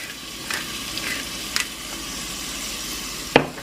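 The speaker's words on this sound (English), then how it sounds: "just toss them around a little bit until they just start to get tender" Onions sizzle and fry steadily in a pan, seasoned with salt and pepper, with a few sharp clinks of stirring or tossing near the end; no talking.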